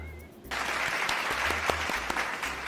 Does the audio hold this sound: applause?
yes